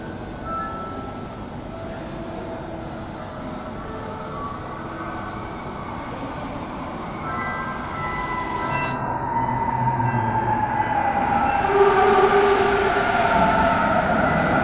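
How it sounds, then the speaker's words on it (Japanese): A Sendai Subway Tozai Line train rumbles in and grows louder at International Center Station, metallic wheel squeal rising near the end as it pulls into the platform; no talking. "Attention please, a train is approaching platform 2."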